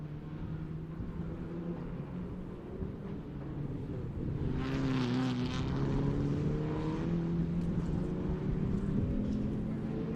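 Engines of racing cars in a sim racing game drone steadily through a lap, a continuous mid-loud whine that swells and shifts pitch as they accelerate, with no talk over it.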